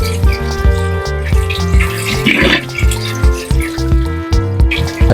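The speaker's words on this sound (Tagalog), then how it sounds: "Ito namang carrots ang aking uhugasan." Carrots are rinsed under a running kitchen tap, with water splashing and dripping steadily, close and fairly loud, with intermittent clatter of the vegetables.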